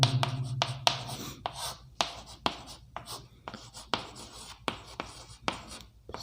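Chalk or marker strokes on a board, a series of close, sharp scratchy taps and short rubs in an uneven rhythm, with a faint voice near the start.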